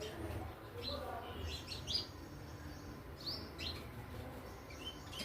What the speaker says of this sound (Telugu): మా పిచ్చుకలు అయితే ఇంకా గొడవ పడుతున్నాయండి.